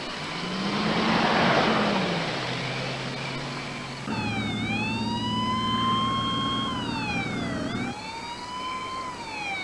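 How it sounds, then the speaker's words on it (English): An ambulance siren wails loudly and continuously, sweeping up and down in pitch, with vehicle engine rumble underneath. "The ambulance carrying the little girl took off for Bedford County General Hospital"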